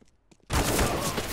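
Loud burst of MP9 submachine gun fire in a first-person shooter game, a sustained rapid stream of shots erupting after a brief quiet start and continuing to the end.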